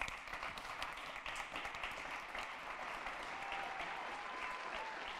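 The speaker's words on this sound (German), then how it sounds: "Sie haben einen Applaus verdient an der Stelle." Sustained applause from a small audience at the Salus-Medienpreis 2021 award ceremony: dense, even clapping that holds steady for about five seconds without a break.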